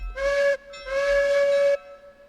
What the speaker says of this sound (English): That's a little better echo on that whistle, just right off the bat.